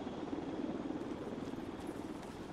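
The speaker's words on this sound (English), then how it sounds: "The other chopper's coming around for its pass." A video game helicopter flying past on a combat map drones steadily and faintly throughout, a continuous rotor rumble with no voices over it.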